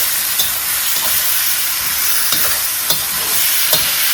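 Double chilli and belly pork stir fry in a wok, with a loud, steady sizzle and a few sharp scrapes of the spatula against the pan. No voices are heard.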